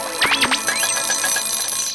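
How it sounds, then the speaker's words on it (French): An alarm clock rings in a short, rapid burst of bright trilling tones, loud and close, with no talk over it, in a Totally Spies! cartoon scene. "Mon réveil me réserve donc d'autres surprises désagréables que sa sonnerie"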